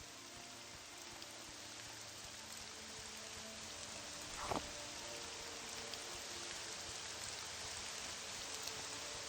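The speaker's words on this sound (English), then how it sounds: "Oh great, it's raining." Steady rainfall in the video game Morrowind, a soft continuous hiss of drops at moderate level with one brief louder patter midway, no voices present.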